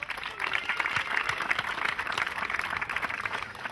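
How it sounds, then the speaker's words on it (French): An audience applauds at a tennis tournament opening ceremony, a steady, dense wash of clapping from a crowd at moderate distance with no voices over it. "Applaudissements."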